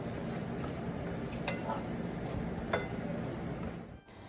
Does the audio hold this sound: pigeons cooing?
no